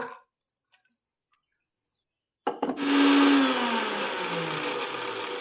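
A mixer grinder whirs garlic chutney after a near-silent pause, starting with a few clunks and then running as a loud steady whine that eases down slightly.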